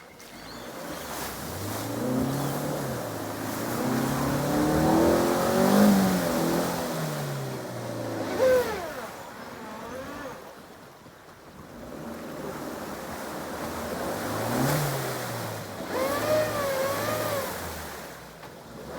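A Suzuki Jimny JB74 with a blown main fuse churns through a soft, muddy bog hole, its engine rising and falling in drawn-out revving surges over a wet, sloshing rush of mud and water.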